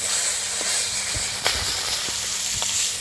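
Freshly caught live pond fish, Japanese puti and tilapia, frying in hot oil, giving a steady close sizzling hiss with a few sharp pops and spatters.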